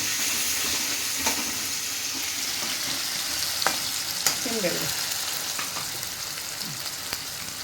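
Okra, with potato, frying in a pan until golden: a steady close sizzle with occasional scrapes and clinks of stirring.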